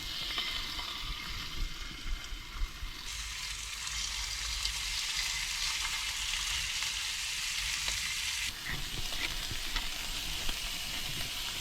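Fish fillets with salted skin fry in a pan with a loud, steady sizzle and crackle, and the hiss grows stronger midway. No one is talking.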